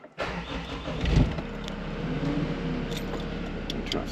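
The diesel engine of a large shop crane cranks and catches, then settles into a steady low idle with a few light clicks and rattles nearby.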